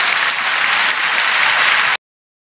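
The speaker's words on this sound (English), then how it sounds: "Let's give him a round of applause." Brief burst of dense applause from many hands, steady and fairly loud, cutting off abruptly after about two seconds.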